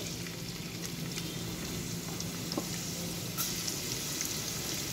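Garlic sizzling in hot oil, a steady, close crackle of frying with faint pops and a low background hum, no voices.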